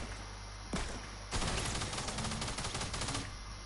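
A submachine gun in a video game fires a long, loud, continuous burst up close, with a short shot first, then rapid sustained fire through most of the moment.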